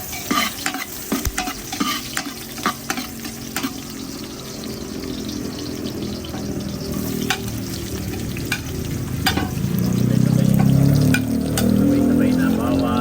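Garlic, onion and ginger sauté together in a pan for dinuguan, a steady sizzle with scattered stirring clicks that swells louder toward the end; no talk.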